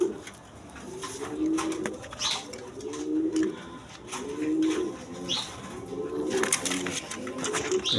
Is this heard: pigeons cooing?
yes